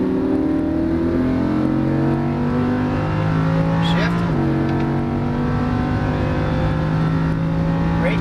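A Lamborghini Huracan on a race track, its engine holding a loud, steady droning note that dips and shifts once as it changes gear, continuous and close throughout.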